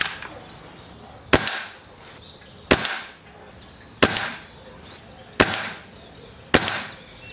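An Air Arms TX200 Ultimate springer air rifle fires pellets, five sharp cracks spaced about a second and a half apart, each with a short ringing tail, in a quiet setting.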